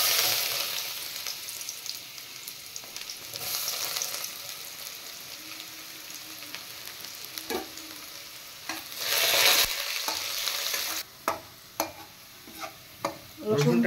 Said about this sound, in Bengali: রসুনটা একটু লাল লাল করে ভেজে নেব।